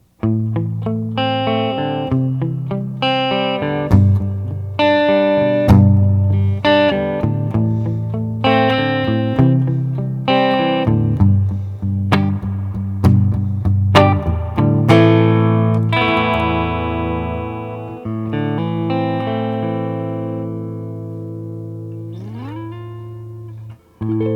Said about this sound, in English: It kind of creates this sort of like washy ambiance to your guitar playing if you're playing with the reverb on.